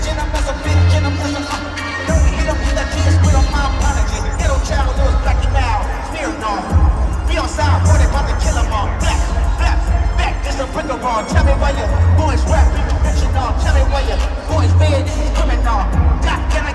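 A concert crowd at a tour stop in Las Vegas roars continuously over loud, thumping bass-heavy music, with dense cheering and babble filling the whole stretch.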